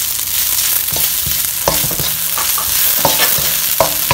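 Chickpeas with chili flakes and salt are stirred in a pan over medium heat for karam sundal. A spoon scrapes and clacks repeatedly against the pan over a steady sizzle, close and fairly loud, with no talking.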